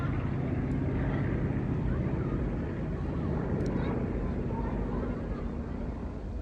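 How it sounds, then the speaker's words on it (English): An OV-10 Bronco, a high-tailed twin-engine turboprop, flies past at an airshow, giving a continuous loud engine roar and rumble blended with wind buffeting on the microphone. "the amazing Coin aircraft, as it's known, a very characteristic top-tail twin-engine turboprop"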